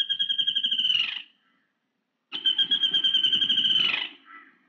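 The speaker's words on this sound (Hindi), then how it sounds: "यहाँ इसे वडला पिट्टा कहते हैं।" An Indian pitta calls twice in a film scene set in rural India. Each call is a loud, clear whistled note of about a second, with a low buzzy undertone, and the two calls are separated by a short silence.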